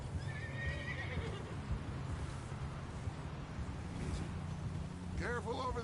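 A horse in the Red Dead Redemption 2 video game whinnies loudly at the start and again near the end, with clip-clopping hooves and a low rumble between.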